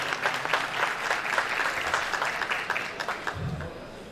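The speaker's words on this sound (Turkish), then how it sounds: "Kocaman bir alkış sevgili başkanıma da gelsin." An indoor audience at a unity night gala applauds the mayor, a dense, sustained clapping from a sizable crowd that holds steady for several seconds before a faint voice rises briefly near the end.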